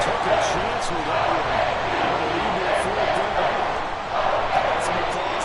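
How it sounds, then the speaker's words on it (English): A stadium crowd at a football game applauds and cheers for the defense, a broad steady roar of clapping and shouts under a commentator's talk. "Some applause for the defense there"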